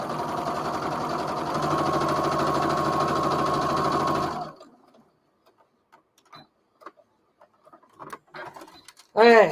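A sewing machine stitching fabric, a fast, steady mechanical whir for about four seconds before stopping, followed by faint handling noises and a brief spoken word.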